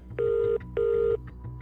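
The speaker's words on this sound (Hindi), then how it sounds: "अभिनव ने अगला नंबर अकरम का डायल कर दिया।" Phone keypad tones as a number is dialed, two steady beeps of equal pitch each about half a second long, clear and close over a low background hum.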